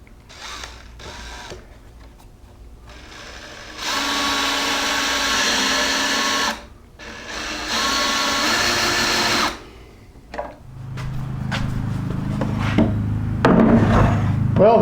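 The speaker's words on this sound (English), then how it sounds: "I'm going to attach it with Kreg screws" Power drill driving Kreg pocket screws into a wooden angled foot stool base, two sustained whirring bursts of a few seconds each, loud and close, followed by lower mechanical rumbling and handling noise, with no talk.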